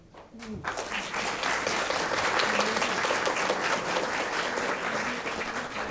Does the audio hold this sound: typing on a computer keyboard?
no